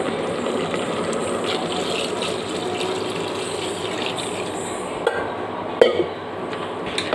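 Water pours steadily from a tap into a cooking pot for eggplant prawn gravy, a constant rushing splash with a couple of small knocks near the end.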